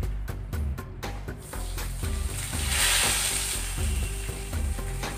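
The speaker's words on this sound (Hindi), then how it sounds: "और जब ये भी ब्राउन होने लगे तो हम छौंक लगा देंगे।" Whole red chillies are tempered in hot oil, sizzling steadily up close, with repeated sharp clicks and scrapes of stirring throughout.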